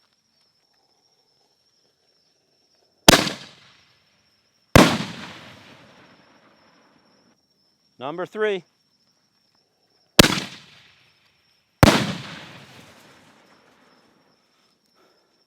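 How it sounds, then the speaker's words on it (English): Four Season Fireworks Zombie shells from 2019 burst in four loud, sharp booms, each trailing off in a rumbling decay, heard in two pairs with a short spoken phrase in the gap between them. "Next up, we're going to do the Four Season Fireworks Zombie shells"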